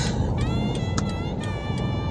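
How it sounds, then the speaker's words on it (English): A truck rolls past on a road in Mombasa, its steady engine rumble loud and close, holding a constant low drone with tonal whine above throughout. "Oh gosh, this truck"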